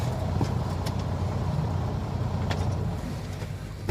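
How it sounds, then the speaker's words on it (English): A truck's engine idles as heard from inside the cab, a steady low rumble that holds evenly throughout with no talking. "I'm inside my truck now. I'm actually idling, which is really rare."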